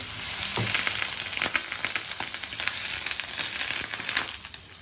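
Crisp hotel-style dosa batter sizzling on a hot oiled pan, a close, crackling fry hiss with scattered sharp pops and light scraping, steady throughout and without speech.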